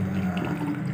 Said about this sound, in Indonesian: Lepas tu kita tuang air panas.